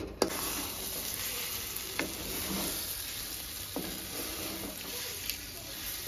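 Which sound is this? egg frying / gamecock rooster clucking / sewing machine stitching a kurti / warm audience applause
egg frying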